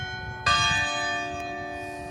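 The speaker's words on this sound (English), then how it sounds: "for whom the bell tolls" A single church bell is struck once, ringing out loud and full with a long, shimmering decay that fades slowly over the next couple of seconds.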